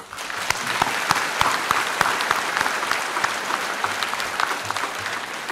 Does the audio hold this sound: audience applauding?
yes